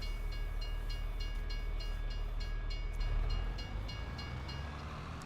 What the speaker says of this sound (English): Oh, of course, there's a train!